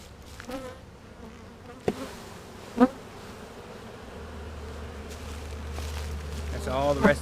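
Honey bees buzz steadily around a brood frame lifted from a hive with queen cells, a soft droning hum under brief handling knocks and a faint voice, swelling louder toward the end.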